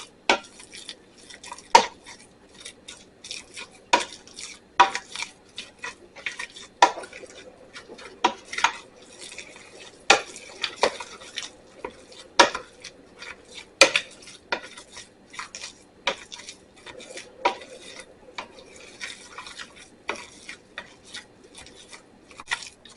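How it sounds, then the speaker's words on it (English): Pierogi filling with heaping spoonfuls of sour cream is mashed and stirred in a bowl, producing irregular clinks and scrapes of a utensil against the dish, close and fairly quiet, no talking. "Now that I got this all mashed up and stirred up pretty good"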